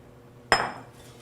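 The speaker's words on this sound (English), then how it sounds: "you're going to add your veggies to a rimmed baking dish or baking sheet" Vegetables tipped onto a rimmed baking sheet land in one bright metallic clatter that rings briefly and fades within half a second.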